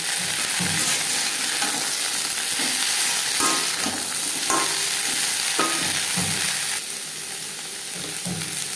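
Carrots and beans sizzle steadily in a frying pan for a winter vegetable khichuri, with a spoon stirring and scraping through them in irregular strokes against a constant hiss.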